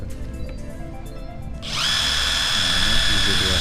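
Bosch GDR 12V-EC cordless impact driver spinning a wood-and-metal drill bit; after a moment of background noise the motor starts abruptly into a loud, steady high whine that holds close and constant to the end.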